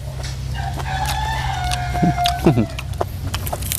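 A domestic rooster kept at a home crows once in a loud, wavering call at middle distance, with faint talking and background noise around it.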